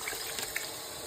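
Pimentos and olives with their juice tossed into a pan of browned rice for Spanish rice, giving a brief, faint wet splash and liquid pour.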